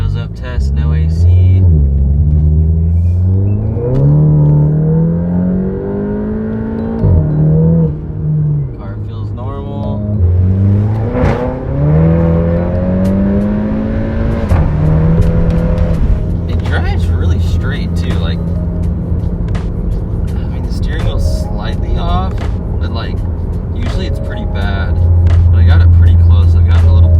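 Cabin noise inside a moving VW GTI on Ksport coilovers with the windows up and the AC off: a steady low engine and road drone with rising and falling revs as it accelerates and shifts, plus someone speaking over it.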